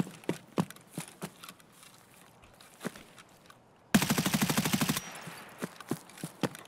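Burst of rapid automatic gunfire in the shooter game Escape From Tarkov, a dense run of shots lasting about a second, loud against quieter footsteps and light clicks before and after.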